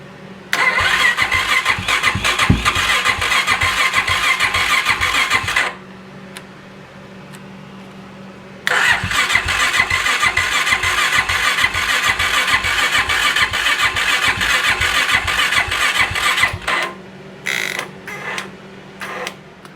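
A Suzuki LTZ 400 ATV with head and valve-train trouble cranks and fires into a loud, close, chugging idle. It shuts off, then cranks and runs again for several seconds before cutting out with a few scattered clicks.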